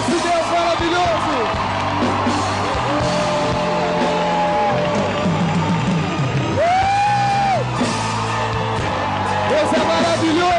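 A worship crowd at a Canção Nova gathering roars, cheers and whoops, loud and dense throughout, with shouted voices rising and falling over a continuous wall of noise.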